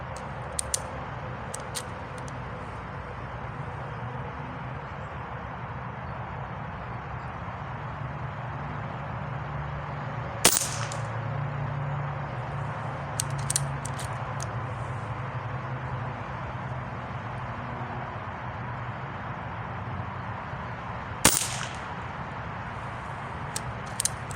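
A Hatsan Hydra .22 PCP air gun fires two sharp, short pops about ten seconds apart over a steady background hiss, with a few faint ticks in between.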